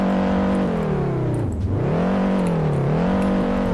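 An engine hums steadily as a car drives in the Roblox game Taxi Boss, its pitch dipping and rising again with speed changes, heard alone without speech.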